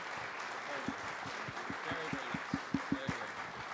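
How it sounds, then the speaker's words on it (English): Faint applause from a high school mid-winter concert audience, a soft wash of clapping with a few sharper, distinct claps standing out near the end. "One more round of applause for these kids."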